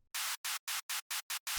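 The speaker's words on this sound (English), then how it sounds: "this is just white noise" High-pass filtered white noise from a Serum synth, pulsed in seven even hissing bursts with short silent gaps between, loud and steady with no speech over it.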